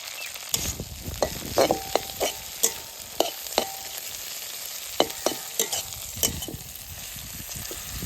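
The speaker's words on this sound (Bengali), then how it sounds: "কড়াই গরম করে দিয়ে দেব সর্ষের তেল," Chilli and neem leaves fry in hot mustard oil in a wok, a steady close sizzle broken by repeated sharp clacks of a spoon stirring against the pan, no voices.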